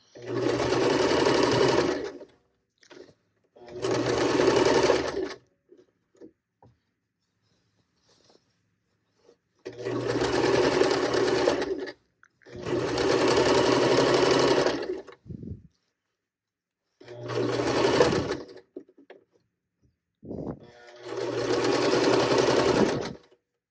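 Domestic sewing machine hemming and backstitching cotton pajama shorts, running in several bursts of a few seconds each with quiet pauses between, close and steady.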